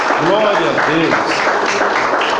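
A church congregation applauds during a worship service, a steady wash of clapping from many hands filling the room while voices call out over it.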